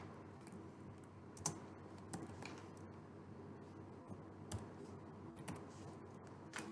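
Computer keyboard typing while writing Java servlet code, heard as soft, quiet, irregular key clicks with a few louder taps, close by and with no talk.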